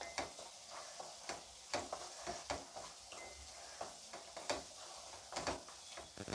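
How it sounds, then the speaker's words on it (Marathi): Tomato, coriander and garlic-ginger paste are sautéed for chicken keema, with a soft steady sizzle in oil broken by a string of scraping stirs from a spoon against the pan. "आता हे पुन्हा मी परतून घेते"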